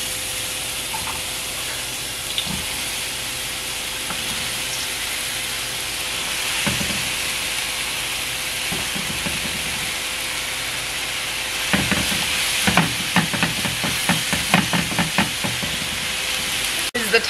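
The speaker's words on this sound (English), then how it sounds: "I cut up some onion and mushrooms, and then I'm gonna saute those over here" Onion and mushrooms sauteing in a pan give a steady sizzling hiss throughout, with clinks and stirring taps from utensils picking up toward the end; no one talks.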